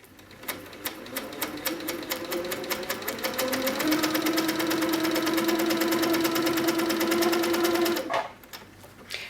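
An HQ Sweet Sixteen sewing machine quilts a wave pattern along a ruler, its needle hammering in a fast, steady rhythm that speeds up midway and then stops abruptly near the end.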